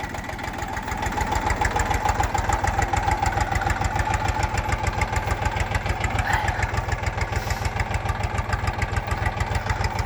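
A Kentavr 244SX mini tractor's KM385VT diesel engine idles steadily nearby, its rapid regular knocking pulse loud and continuous throughout, with no voices.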